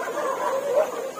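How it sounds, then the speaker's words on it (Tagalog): A dog in a village barks or yips faintly from a distance, a short blurred call under a steady outdoor background. "Naingay po yung aso nila dun."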